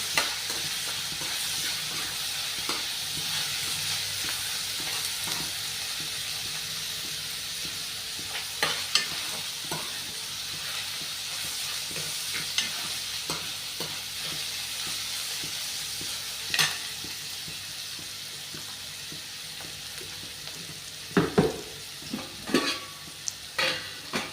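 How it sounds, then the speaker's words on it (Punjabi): Chopped onions sizzle and brown in a pan for a coriander and spinach sabzi, with a steady hiss and repeated stirring scrapes. A few sharper clatters of the utensil against the pan come near the end, and no one speaks. "ਆਪਾਂ ਪਿਆਜ਼ਾਂ ਨੂੰ ਥੋੜਾ ਜਿਹਾ ਬਰਾਊਨ ਜਿਹਾ ਕਰ ਲਾਂਗੇ ਜੀ"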